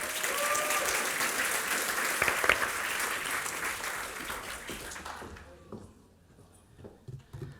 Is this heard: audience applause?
yes